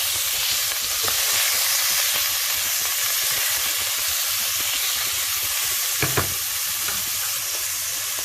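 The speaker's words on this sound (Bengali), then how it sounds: "তার শুধু সামান্য একটু কাঁচা গন্ধটা চলে যাওয়া পর্যন্ত হালকা একটু ভেজে নেব।" Ingredients for a Thai soup frying lightly in a pan, a continuous close sizzle with a couple of soft stirring knocks near the end, no talking.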